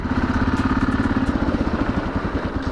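A 1983 Yamaha XT550 single-cylinder motorcycle idles at a standstill on the road, its loud, close, even thumping pulse chugging rapidly and steadily throughout with no voices.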